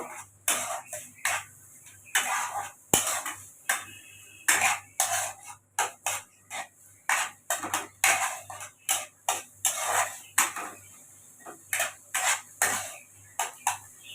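Chopped onions and tomatoes are stirred in a pan for paneer butter masala, with a spatula clattering and scraping against the metal in a steady, rhythmic series of close, sharp strokes throughout.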